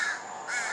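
Crows cawing at Manilya beach: two harsh, scratchy calls close by, one at the start and another a moment later, with no talking.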